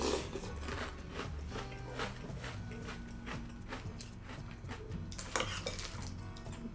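Metal spoon scooping American Oreo O's cereal from a bowl, a run of crisp scraping clinks and crunchy rustles close up, repeating irregularly with no talk.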